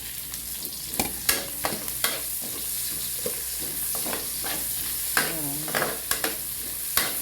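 Garlic, ginger and onion sauté in a frying pan with a continuous oil sizzle, punctuated by repeated scraping stirs and clinks of a utensil against the pan, close by, with a brief spoken word.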